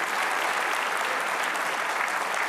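Dense, steady applause from a television studio audience at an Indonesian talk show, a continuous wash of many hands clapping at even loudness throughout, with no voices over it.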